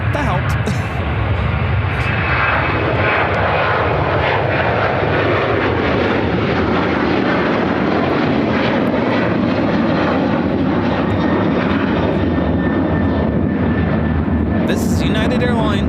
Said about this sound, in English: 1659 taking off to Cancun, Mexico on the 737-900ER.